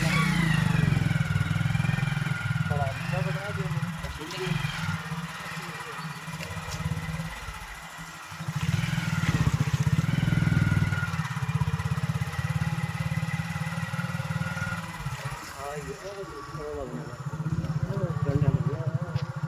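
A motorcycle engine runs steadily near the Beas river, its low, continuous drone holding throughout with a brief dip midway, while voices talk over it.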